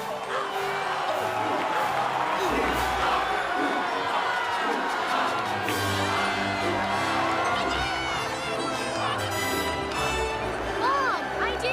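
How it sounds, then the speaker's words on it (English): A large crowd cheers and whoops in the podrace arena of Star Wars: The Phantom Menace, a loud, dense roar of shouting that holds steady throughout with voices mixed in. "The crowds are going nuts."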